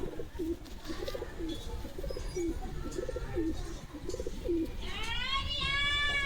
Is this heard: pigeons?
yes